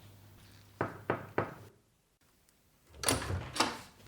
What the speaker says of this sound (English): Knock the door, Balthazar.